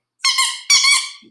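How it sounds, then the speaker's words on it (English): Two loud squeaks from a small squirrel-shaped squeaky dog toy, each a sustained high-pitched squeal lasting about half a second, close up with no voices. "He has little tiny squirrels like that make squeaky sounds like this."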